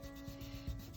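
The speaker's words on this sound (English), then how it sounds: "let's just rub. Get some colors and rub." A finger rubbing colored pencil into a portrait drawing on paper gives soft, quiet scraping strokes in short repeated passes, with no talk.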